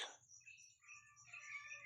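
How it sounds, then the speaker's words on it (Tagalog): Many birds chirp and tweet in a santol tree around six in the morning, with faint, high, overlapping calls at a distance and a soft low hum underneath. "Ayan, ang daming ibon,"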